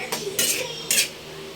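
A spoon scrapes and clinks against a pan while creamy beef mushroom is stirred, giving three distinct metallic scraping strokes close up, with no talking.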